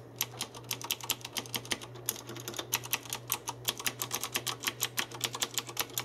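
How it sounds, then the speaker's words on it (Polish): Rapid, sharp clicking of a mechanical keyboard with Cherry MX Blue switches in an aluminium case being typed on, loud and close, with a steady low hum underneath and no talking. "jak działają same przełączniki Cherry MX Blue, posłuchajcie, mają specyficzny klik, nie należą do cichych"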